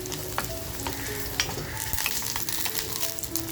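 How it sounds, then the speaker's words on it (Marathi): Onions fry in a pan for a village-style spicy curry, a close, steady sizzle with scattered crackles and the scrape of stirring throughout. "कांदा ना आपल्याला छान असा लालसर परतवून घ्यायचा आहे"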